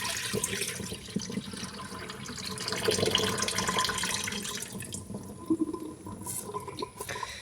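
Water poured onto rice in a pot for cooking, a continuous close splashing and gurgling stream that swells in the middle and tapers off into lighter trickles.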